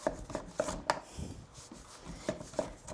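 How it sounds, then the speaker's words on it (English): A knife cuts half-inch slices of hollowed-out squash on a cutting board, giving a handful of sharp, close knocks against the board, spaced irregularly with softer slicing scrapes between them. "So I'm gonna go in and I'm gonna make 1/2-inch slices"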